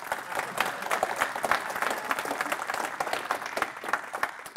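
An audience at a Rust community conference talk claps steadily, the individual hand claps audible as a brisk, even patter at moderate level with no speech over it.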